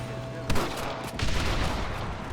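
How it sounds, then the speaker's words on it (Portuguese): Machine gun fire in the video game Red Dead Redemption: a sharp loud burst followed by dense, continuous rattling gunfire filling the whole stretch. "Tô tomando muito tiro aqui"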